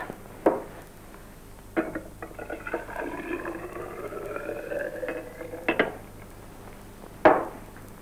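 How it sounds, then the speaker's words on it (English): Two colored liquids are poured and mixed in glassware: sharp clinks and taps of glass at the start, middle and end, with soft liquid sloshing and trickling between them, close and fairly quiet. "I'm going to mix another two colored liquids."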